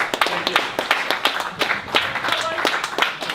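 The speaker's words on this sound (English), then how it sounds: "give a round of applause for videoing it" An audience claps together at a DevOps meetup, a close, lively patter of many hands with talk over the top.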